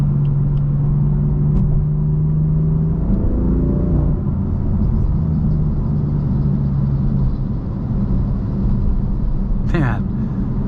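A 2018 BMW M4 engine pulling hard while driving, a loud continuous roar that rises in pitch through acceleration, heard from inside the car, with someone talking over it.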